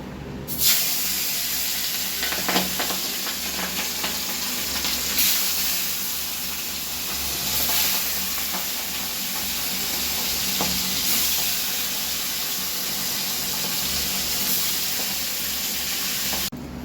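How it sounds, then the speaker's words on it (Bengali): Pieces of pona fish fry steadily in a pan, with a continuous close, fairly loud sizzle and occasional spits and stirring clatter running from start to finish. "প্রথমে মাছটা খুব ভালো করে ভেজে নেব।"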